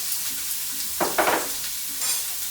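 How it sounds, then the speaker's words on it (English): Onion and garlic sizzle in a hot pan for goulash, with a louder hiss after a stir as the food is moved with a spatula, then a steady crackle. "I have my onion garlic together. I love that sizzle, really, really nice."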